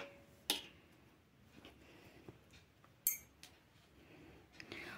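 Knitting needles clicking and tapping faintly while a sweater border is cast on by hand, with sparse irregular clicks and a few sharper clinks over quiet room tone.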